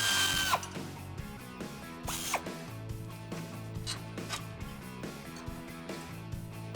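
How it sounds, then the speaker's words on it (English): A ratchet and power tool work an 18mm socket on a control arm bolt of a two-door Jeep Wrangler JK during a lift kit install. The clicking and whirring come in short bursts and sit close under a steady, busy background. "we're just going to use an 18mm socket to get this bolt out"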